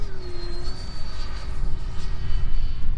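A Freewing F-4 RC jet on an 8S setup flies overhead before landing, its electric ducted fan giving a loud, steady whine with a sliding tone and rushing roar, fairly close and alone.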